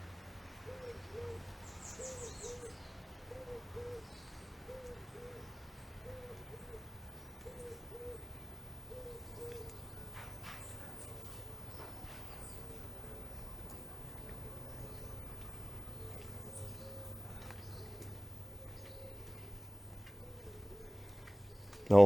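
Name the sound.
birds singing outdoors in Holetown, Barbados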